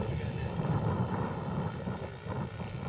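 Scale model Bob Racer aircraft making a flyby at a model airshow: a steady, moderately distant engine drone held throughout, with a faint rise and fade and no speech over it.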